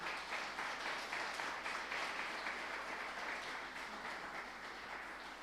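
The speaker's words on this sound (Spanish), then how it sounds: "Denle un fuerte aplauso a Jesucristo." Congregation applauding in a Spanish-language church service, a steady, fairly distant wash of clapping that holds for about five seconds and eases slightly at the end.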